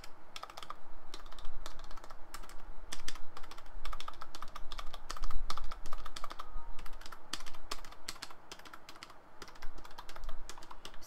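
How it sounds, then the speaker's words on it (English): Typing on a Logitech Wii wireless keyboard with flat keys, a steady run of quiet, quick keystroke clicks in uneven bursts, close and alone. "The keys aren't too noisy or anything like that. They press down like normal keys."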